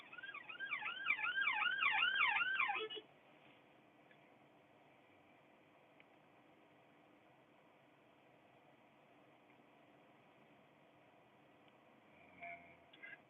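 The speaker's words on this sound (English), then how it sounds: "it looks like some emergency vehicles going, fire, ambulances" Wailing fire and ambulance sirens rise and fall rapidly for about three seconds, loud and close, then fade, leaving faint background hiss with a brief soft noise near the end.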